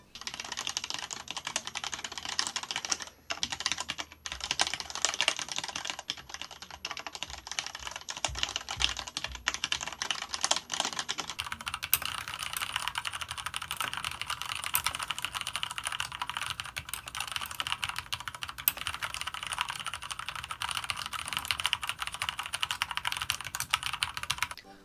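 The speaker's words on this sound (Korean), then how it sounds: "체리 흑축의 타건음 들려드리도록 하겠습니다." Continuous close-up typing on a Cherry MX Black switch mechanical keyboard, rapid thocky keystrokes in a dense stream with a few short gaps and a change in tone partway through, no talking.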